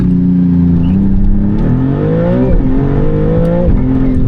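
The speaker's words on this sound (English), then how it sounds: "Launch control, click the launch button, floor the brake, floor the gas, and off we go." A Maserati GT2 Stradale pulls a hard launch-control start, its engine note loud and close, rising in pitch through several gears with brief dips at each upshift.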